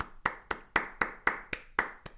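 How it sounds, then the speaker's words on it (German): Steady hand clapping at a German talk show on climate, about eight sharp claps evenly spaced and close, with no talking over them. "Gibt's auch noch Applaus?"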